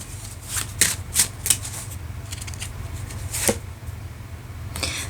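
Tarot cards are shuffled and flipped over at close range: a few quick papery riffles and crisp snaps stand out against a quiet background, with no voices.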